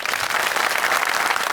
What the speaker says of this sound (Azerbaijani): amma daha gürültülü alqış.